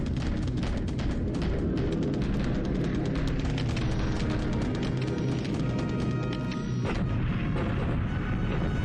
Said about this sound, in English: Okay, some more bombing on Chinese troops, it looks like